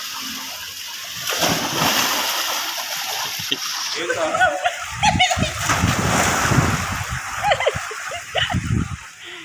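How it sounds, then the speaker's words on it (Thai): Water splashes repeatedly at a seaside resort pool as a child comes down a water slide, with bursts of churning spray and children's voices chattering over the watery commotion. "นี่ออนจะเล่นกระดานลื่นปื๊ดเลย"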